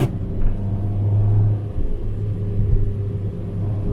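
A 2015 Fiat 500 Abarth pulls away after a downshift, its engine a deep, loud, steady rumble from inside the car that swells slightly as it accelerates.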